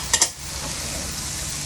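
Garlic and carrots stir-fry outdoors for sweet and sour pork, two quick sharp clanks followed by a steady, close hiss of sizzling.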